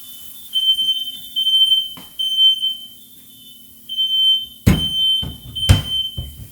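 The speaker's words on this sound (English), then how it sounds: "The fire alarm's going off" Smoke alarm sounding in a kitchen while keto chaffles cook in a mini waffle maker, a piercing high electronic tone in repeated bursts, with two sharp knocks near the end.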